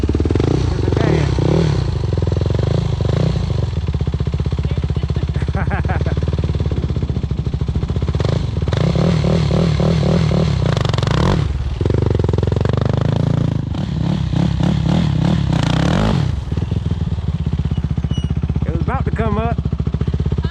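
Motorcycle engine revving loudly and repeatedly during wheelie attempts, surging and dropping in uneven bursts, with people talking over it throughout.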